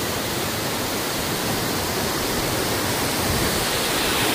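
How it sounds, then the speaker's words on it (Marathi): Water pouring down from above at Padale Dam, a steady broad rushing roar that stays even and close throughout, with no voices. "वरतून बघा पाणी वाहायला लागलं"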